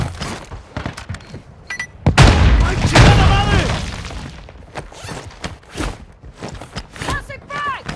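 A frag grenade in the Warzone video game goes off with a heavy, close boom that rumbles for about a second. Gunfire and footsteps click around it, and voices shout near the end.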